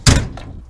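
Door of a 1965 Chevrolet C10 pickup truck shutting and locking with a single close, solid thunk followed by a short fading rattle.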